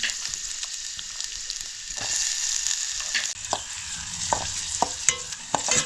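Chopped onion and garlic fry in a pan with a constant close sizzle, broken by occasional scraping clicks of a stirring spoon.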